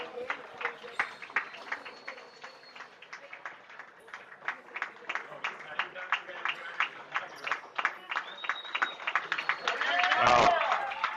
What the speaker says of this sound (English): Standing ovation here for David.